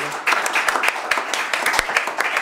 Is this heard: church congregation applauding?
yes